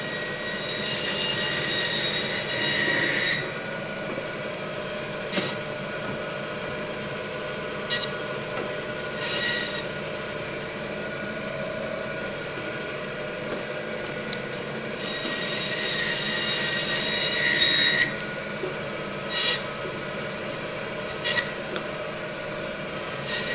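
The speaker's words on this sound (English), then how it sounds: "if we move over to our bandsaw, we've found that if you cut them in half, it makes a real desirable cut" A butcher's bandsaw slicing beef cuts in half, heard as loud, shrill whining bursts that rise and cut off several times, separated by the quieter hum of the running machine.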